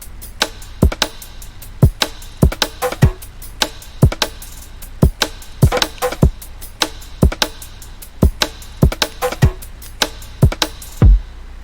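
Future garage drum pattern with crisp snare hits and scattered percussion ticks, loud and steady against a low sustained bed, no voices.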